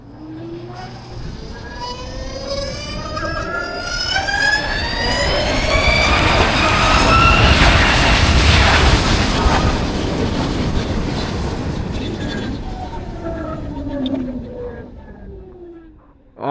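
A Zero SR/S electric motorcycle ridden hard and downshifting, its rising and falling whine sweeping up and down over steady road and wind roar that swells toward the middle and fades at the end.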